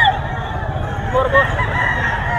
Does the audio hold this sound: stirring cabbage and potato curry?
no